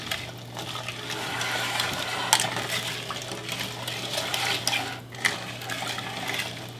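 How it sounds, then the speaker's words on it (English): Cranberry sauce in a pot is stirred with a spoon, giving wet sloshing and a few sharp clinks against the pot's side over a low steady hum, with no voices. "So I'm going to stir this just a bit."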